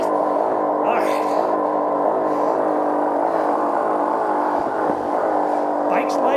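A KTM off-road motorcycle engine runs steadily after cranking on an OHV trail, a loud, continuous buzzing drone with slight revs, close by, with people talking over it.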